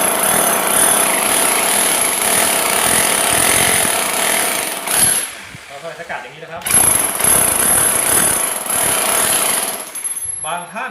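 A Bosch GSH500 electric demolition hammer chisels concrete up close with loud, rapid continuous hammering. It stops briefly about halfway, then starts again, and someone speaks faintly around the pause.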